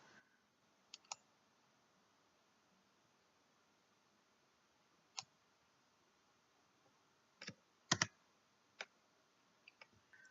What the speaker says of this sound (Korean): 컨트롤 T 누르고